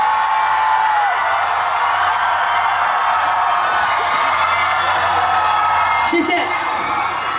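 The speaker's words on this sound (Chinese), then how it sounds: "尖叫声" A concert crowd at the 2019 Iron Rose music festival screams and cheers for a singer in a continuous, loud roar of whoops and yells. A voice briefly says thanks near the end.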